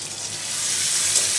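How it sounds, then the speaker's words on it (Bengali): Refrigerated onion frying in a pan until browned, a steady even hiss of sizzling oil, loud and close, with no speech. "পেঁয়াজটা একটু ভাজা ভাজা হোক, একটু বাদামি কালার হোক"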